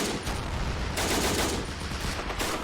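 Sustained machine gun fire in a WWII battle game set at a bridge crossing in Greece, 1940: a dense, loud, unbroken rattle of shots filling the whole moment with no pauses.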